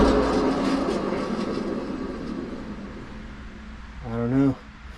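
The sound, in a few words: Cub Cadet XT1 mower deck spindle spinning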